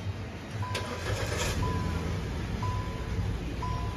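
A cheap second-hand car at a used car dealer in Kolkata is started. The engine turns over and catches, then settles into a steady idle with a faint periodic electronic beep.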